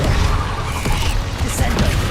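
A Repulsor spell blast from the wizard in Hogwarts Legacy: a dense, loud burst of magical whooshing and crashing energy that fills the short moment, with game sound layered throughout.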